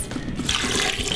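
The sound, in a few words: pouring filtered water into a blender for a smoothie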